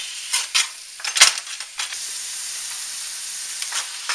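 Ground beef and onions for chili cooking in a pan, with a steady high hiss of frying broken by a few louder bursts of stirring or scraping early on, then settling into a continuous sizzle.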